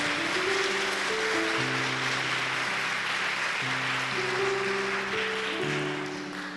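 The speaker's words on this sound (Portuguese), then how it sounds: "Vamos aplaudir a palavra de Deus?" A church congregation applauds at a worship service, a broad sustained clatter of clapping layered over held keyboard chords that shift in steps, tapering off near the end.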